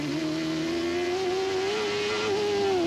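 Reynard race cars scream along the streets of Toronto, one engine's high whine holding steady and rising slightly, loud and close over a dense background of racing noise.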